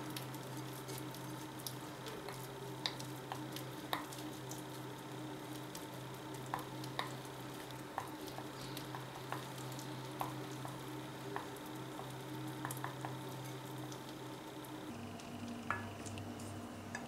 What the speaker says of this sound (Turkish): İlk önce tereyağımızı karıştırma kabımıza alıyoruz ve biraz karıştırıyoruz, yani açıyoruz.